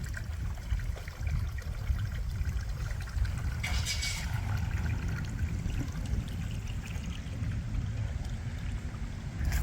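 Water trickling steadily from a nearby outdoor fountain in Willard, New Mexico, a constant soft splashing with wind, and a brief rustle partway through.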